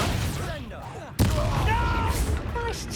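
Confringo blasting spell exploding in Hogwarts Legacy, a sharp sudden blast cutting in mid-clip amid ongoing combat effects, with voices and other spell sounds around it.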